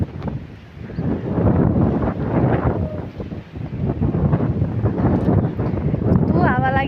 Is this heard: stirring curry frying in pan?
no